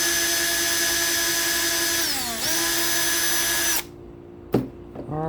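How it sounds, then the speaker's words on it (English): A power drill whines at a high steady pitch while drilling screw holes, slows and dips briefly, spins on, then stops, followed by short bursts of drilling. "we got those screw holes drilled"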